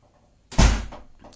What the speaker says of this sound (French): il a claqué la porte comme si